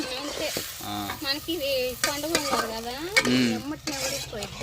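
Broiler chicken skin gongura curry stirred in a hot pan, with scraping strokes of a utensil over steady sizzling and frying, close and moderately loud, a few metallic clinks among the strokes.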